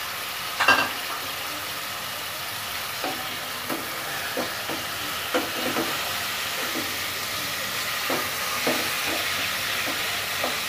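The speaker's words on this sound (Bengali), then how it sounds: "এই তো পেঁয়াজটা ফ্রাই করে নেওয়া হচ্ছে" Chopped onion fries in a pan with a steady hiss and sizzle, while a few light scrapes and taps of stirring punctuate the ongoing crackle.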